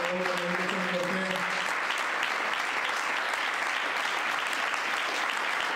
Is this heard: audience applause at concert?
yes